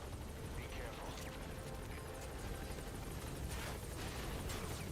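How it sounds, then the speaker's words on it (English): A helicopter from Metal Gear Solid V churns steadily and loudly, its rotor wash a continuous dense roar, with voices talking over it. "Get the helicopter out of here."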